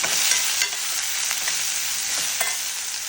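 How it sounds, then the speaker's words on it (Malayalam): Mango masala with Kashmiri chili powder is stirred in a hot pan, a steady close sizzle of frying with occasional scraping strokes of the spoon. "നല്ലോണം ഇളക്കി കൊടുക്കാം"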